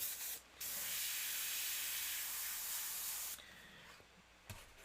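Airbrush spraying custom paint onto a mask, a steady close hiss that stops briefly near the start and fades down toward the end, with a faint knock just before it finishes.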